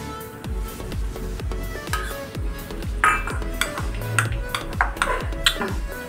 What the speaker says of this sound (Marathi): त्यात आपण दही घालून घेऊया, डाळिंबाचे दाणे, काकडी, थोडंसं मीठ, हे सर्व चांगलं मिक्स करून घेऊया